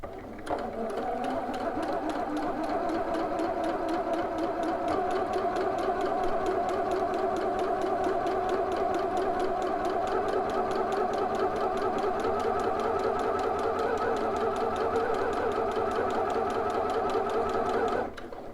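Sewing machine running steadily as it stitches a bodice without back stitching, a continuous close whir from start to finish that cuts off at the end.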